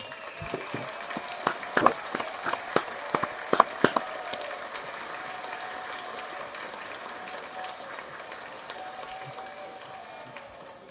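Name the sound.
applause for the battle rappers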